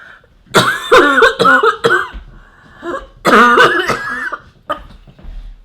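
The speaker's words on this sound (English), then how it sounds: "I'm coughing." Loud, close bursts of harsh coughing in two separate fits, with strained, voiced gasps between them.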